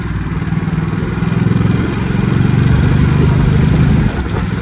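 A Ducati Supersport motorcycle engine runs nearby with a steady low throbbing idle and faint mechanical clatter, alone without talk.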